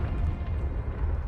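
A Confringo blasting spell in Hogwarts Legacy erupts into a continuous deep, rumbling explosion that fills the moment with heavy low-end roar, near and loud throughout.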